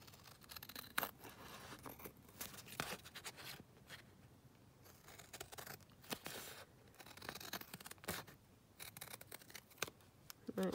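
Scissors snip through paper index cards in a series of short, crisp cuts with pauses between them, close and fairly quiet, with no talking.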